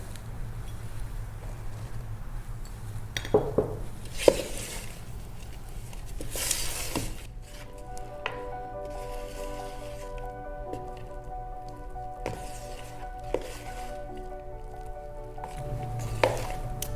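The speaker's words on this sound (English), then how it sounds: "Once it's creamy, add the powdered sugar and mix those together" Creamed mixture being stirred together with powdered sugar in a bowl, with soft wet squishing and dripping sounds arriving in irregular bursts alongside occasional sharper clinks, fairly quiet and close, with no talking.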